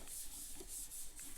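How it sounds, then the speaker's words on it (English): A wet wipe scrubbing the dirty case of a 2008 Mac Pro, a continuous close rubbing and scuffing sound with no talk. "scrub it down. There's a lot of dirt coming out as I wipe it down."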